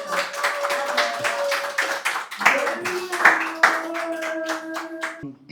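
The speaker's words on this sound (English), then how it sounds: "round of applause for David" Audience clapping at a Bloompulse baking business workshop, a dense patter of many hands that swells and dips over several seconds, with sustained vocal tones or cheers riding above it before cutting off abruptly.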